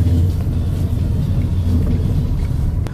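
A 2013 Chevrolet Camaro muscle car engine gives a loud, deep, steady rumble heard up close, with no voices.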